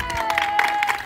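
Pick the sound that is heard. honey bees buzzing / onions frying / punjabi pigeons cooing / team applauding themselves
team applauding themselves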